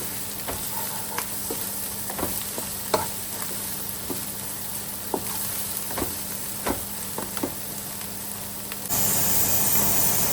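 Ginger garlic paste fries in oil for a red lobia (black-eyed pea) curry, a steady close sizzle with regular spoon scrapes and clicks while it is stirred, and the hiss swells louder near the end.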